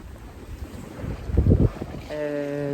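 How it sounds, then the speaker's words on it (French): Steady wind rushes across the microphone on a sailboat under sail, with a low rumble of water; a sustained humming tone joins near the end. "Un peu plus de vent, on est à la voile, ça fait du bien aussi"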